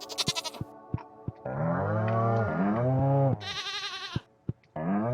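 Animal calls in Stardew Valley, long drawn-out cow moos and bleats, mixed with short clicks and bright chiming tones, loud and close.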